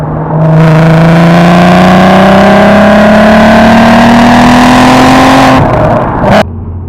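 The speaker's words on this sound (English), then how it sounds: "the main selling point in this is obviously the exhaust" A loud 2003 VW Golf R32 exhaust revs steadily upward in pitch for several seconds, close and droning, then cuts off abruptly.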